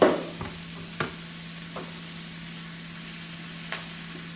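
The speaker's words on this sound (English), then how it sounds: "So we're going to let those peppers cook." Bell peppers and other vegetables fry in a pan with a steady soft sizzle, broken by a few brief stirring scrapes and taps over a low hum.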